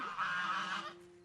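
A single goose honk rings out clearly, a nasal, buzzy call lasting under a second, then fades into quiet.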